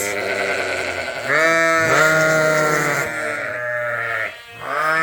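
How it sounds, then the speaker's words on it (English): Several sheep ewes bleat loudly and continuously around a breeding ram, their long wavering calls overlapping close by with brief pauses between them and no talking. "So, this is Hamish's group, and a ewe was jumping on him"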